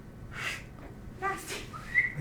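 A person whistles a few short, breathy notes up close, rising and wavering, with pauses between them and light room noise underneath.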